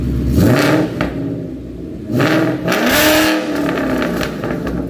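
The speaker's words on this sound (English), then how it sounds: "Give it a little rev. Let's see what it sounds like." A Ford Mustang GT Coyote 5.0 V8 with longtube headers, BBK X-pipe and Roush mufflers revs hard several times, its deep roar rising and falling in loud bursts with brief dips between, close and with no one talking.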